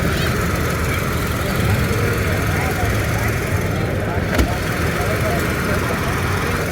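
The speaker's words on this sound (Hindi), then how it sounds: "ये गाड़ी हो गई स्टार्ट" A 1924 Rolls-Royce vintage car idles at an old car exhibition in Farrer Hall, Karachi, a steady low engine rumble running throughout, close and fairly loud, with a brief knock near the end and people talking nearby.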